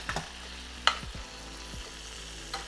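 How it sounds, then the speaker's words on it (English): A ribeye steak cooking in salted butter in a pan on low heat, a soft continuous sizzle with a few sharp clinks and scrapes of basting against the pan, no voices. "I'm gonna add my steak back in, and we're gonna finish it off basting in our salted butter"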